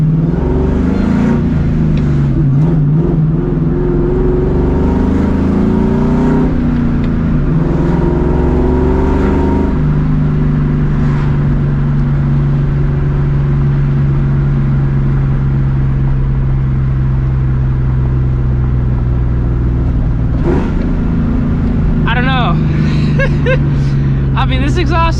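A 2004 Ford Mustang GT with a new exhaust accelerates hard at night, its engine droning loudly and steadily with pitch rising through the pulls, heard from inside the car with voices over it.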